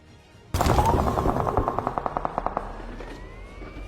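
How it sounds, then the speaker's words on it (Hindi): Rapid automatic gunfire erupts in a battle royale video game, a sudden dense burst settling into a steady rattling string of shots that fades, loud and close, with no talking. "यहाँ पर मेरे सामने गन फायर का साउंड आ रहा था"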